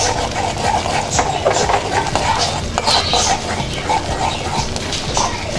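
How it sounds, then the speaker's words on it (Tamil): Eggs are stirred and broken up in a hot pan with a utensil, giving busy scraping and light metallic clatter over a soft sizzle, close and fairly loud, with no clear voices. "ஆற வரைக்கும் இப்படியே கிண்டி விட்டுக்குவோம்"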